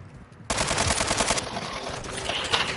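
Rapid automatic gunfire from the Call of Duty: Modern Warfare 2 video game erupts after a quiet half second, a dense rattling burst that runs for about a second and then gives way to a sustained, slightly thinner stream of shots and game noise.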